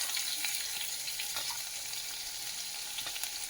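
A large onion fries in hot ghee for ghee rice, a steady close sizzle and hiss that holds even throughout with no talking.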